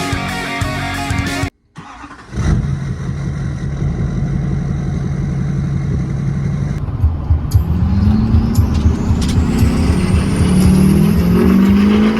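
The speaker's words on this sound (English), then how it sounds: "let's get this turbo in the truck and let's get a sound clip of it" A diesel truck's LBZ Duramax engine with an upgraded KC Turbos Vortex Stage 2 turbo cranks to life after a brief pause, then revs and idles loudly, pitch rising with acceleration and a rising turbo whine toward the end.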